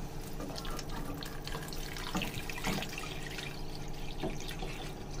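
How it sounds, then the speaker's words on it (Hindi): Two liters of water poured into a pot of chicken yakhni soup, a steady continuous splashing stream with a few louder gushes, running unbroken throughout. "और अब मैं इसी के साथ इसके अंदर ऐड करूंगा 2 लीटर पानी।"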